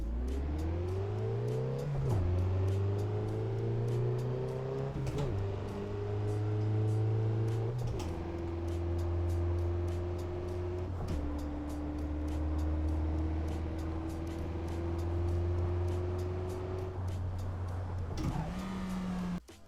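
Car engine in the Assetto Corsa racing game driven with a manual gearbox, a loud steady drone rising in pitch through each gear then dropping at shifts, about six upshifts over twenty seconds, with no talk.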